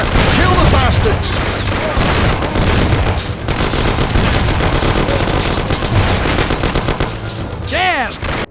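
Heavy gunfire in a chaotic shootout from the Mafia: The City of Lost Heaven video game, with dense machine-gun bursts, rapid shots and booms that are loud and close and continue throughout.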